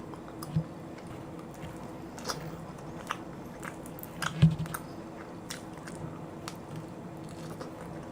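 Someone eats a Domino's Black Tiger shrimp pizza, with quiet crisp bites and soft chewing crunches scattered irregularly over a faint room background, one sharper bite standing out midway, close and without talk.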